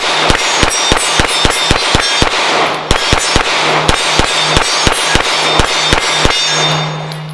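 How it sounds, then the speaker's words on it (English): A Sig P320 X-Five pistol fires in rapid succession, roughly twenty sharp, loud shots in quick bursts with brief pauses, each crack ringing out over a steady background hum. "Let me shoot it a little bit faster on this silhouette and see how this thing does in rapid fire"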